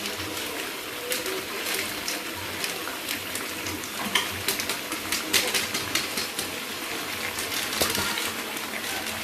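Bengali honey mutton kosha curry with mutton masala stirred in a pan: a steady, fairly close sizzle with a busy scatter of scraping clicks throughout, no voice over it.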